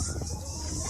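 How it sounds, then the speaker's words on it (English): Siren going off for a third time, a steady wailing tone sounding loudly through the whole brief moment amid background noise. "And the siren is going off for a third time now."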